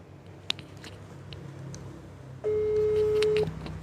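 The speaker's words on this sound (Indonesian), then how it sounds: "Kita telepon. Oke. Mudah-mudahan diangkat." Telephone ringback while calling a doctor: a single steady tone holds for about a second after faint background noise and a brief click, fairly loud with no voices over it.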